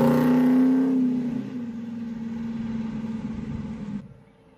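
A 1966 Chevelle Malibu with a 327 engine idles close by with a steady low rumble that fades slightly, then cuts out abruptly near the end as it runs out of gas.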